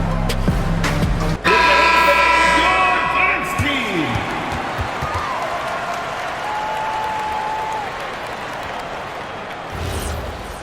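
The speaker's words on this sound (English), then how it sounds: "Fans, please give a big round of applause for your dance team." Arena crowd at a WNBA basketball game applauding the dance team during a timeout, broad crowd noise under music, horn-like tones and an announcer's voice.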